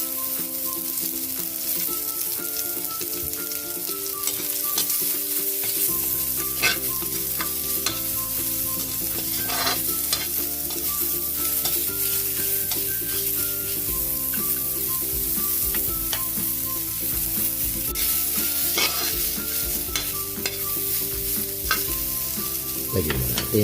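Onions fry and are stirred in a pan with background music, giving a steady loud sizzle. Scraping and clinking of the utensil against the pan recur throughout, and no one speaks.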